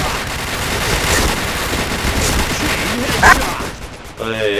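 Rapid video game gunfire crackles in dense, continuous bursts, with faint voices in the background.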